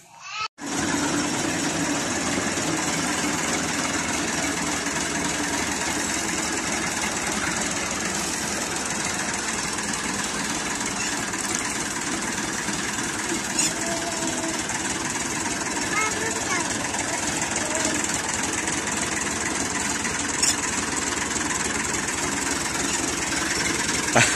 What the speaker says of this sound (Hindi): ट्रैक्टर स्टार्ट हो चुका है।